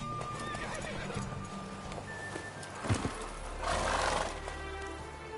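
Roach the horse from The Witcher 3 clip-clops at a gallop, hoofbeats steady throughout, with a loud neigh bursting out midway and a rushing swell of movement near the end.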